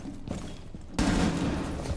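Gunfire in a multiplayer shooter video game: quiet room noise, then at about one second a loud burst of rapid shots that keeps rattling close by to the end, with no talk over it.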